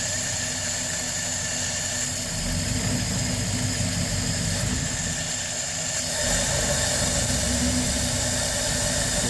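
A LaSalle car engine running rough and bogging as the throttle is opened, a steady loud low drone with a whining edge that sags and surges, heard up close with no talking.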